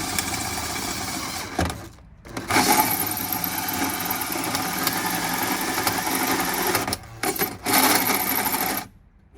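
Power drill boring a 1¼-inch hole partway through a school bus door, a loud steady whine running nearly continuously with two brief pauses where the motor stops and restarts.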